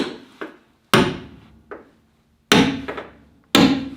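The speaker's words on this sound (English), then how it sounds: "So you just take a pick and a hammer" Sharp metallic pick-and-hammer strikes on a rusty car body panel, a few loud hits with softer taps between, irregularly spaced and close by.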